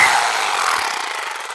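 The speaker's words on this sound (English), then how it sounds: "drill out the next hole" Power drill boring a hole for a wall plug during home DIY work, a steady close whirring grind with a slight wavering rhythm, running alone from start to finish.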